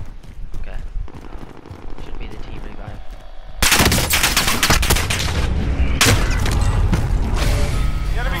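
Rapid rifle gunfire from the Warzone video game, with bursts of automatic fire that grow louder and denser partway through, mixed with booms and game effects while players talk over it.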